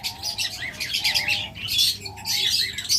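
Pet birds in a cage chirp and tweet in quick bright bursts, close and clear, with a soft cooing call in between and a faint flutter of wings.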